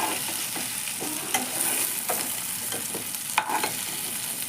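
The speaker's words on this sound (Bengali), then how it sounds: "তো এবার আমার লাউটা প্রায় ভাজা হয়ে গেছে, এখন লাউটাকে আমি নামিয়ে দেব।" Bottle gourd fries in a pan under a soft sizzle, broken by sharp scraping clicks as a spatula stirs and turns it up close, with no voices.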